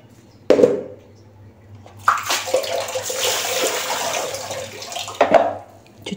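Rice being washed under running tap water: a sharp clink, then a steady gush of water splashing into a container, ending with a short rattling clatter. No one talks.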